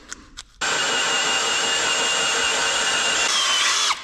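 A power drill with a big drill bit whirs steadily at high speed for about three seconds after a couple of soft knocks, loud and close, then spins down.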